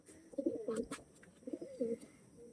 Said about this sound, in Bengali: সুন্দর চোখের পায়রা